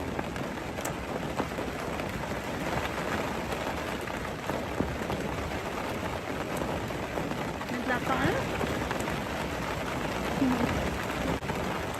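Steady rain pattering on a surface, a dense continuous wash of drops that stays even throughout, fairly close and moderately loud.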